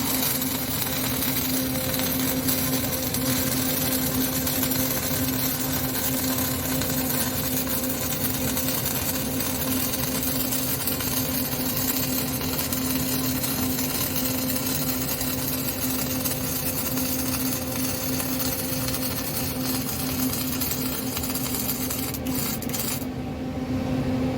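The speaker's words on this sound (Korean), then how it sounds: "일단 플러스 용접을 한번 제가 해보겠습니다." Flux-cored CO2 welding on steel, a steady close crackling buzz with a constant hum running evenly for about twenty-four seconds before cutting off at the end, with no talking.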